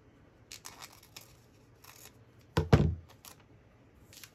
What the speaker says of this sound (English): I need my scissors.